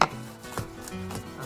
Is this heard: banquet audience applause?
no